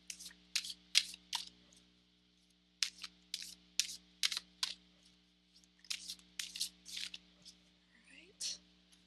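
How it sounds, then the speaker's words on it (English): Tarot cards being shuffled in quick crisp riffling and tapping bursts, close and quiet, pausing briefly between rounds over a faint steady hum. "And so I'll just shuffle these a few times"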